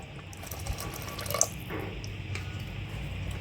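Water runs and splashes steadily into a pan, a continuous close pouring sound with small gurgles and drips.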